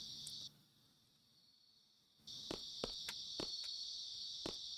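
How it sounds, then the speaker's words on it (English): Steady high-pitched cricket chirping at night in Final Fantasy VIII Remastered fills the air, briefly dropping out before returning with a dense trill and occasional sharper clicks. "Hear the crickets chirping now."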